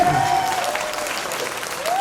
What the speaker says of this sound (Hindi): जोरदार तालियां नीरज सर के लिए।